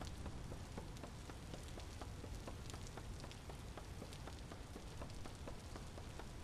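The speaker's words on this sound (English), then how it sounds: "Freezing rain and all that." Freezing rain in the video game Vintage Story, a steady close patter of drops striking surfaces with crisp individual ticks scattered over a continuous hiss, unbroken and without voices.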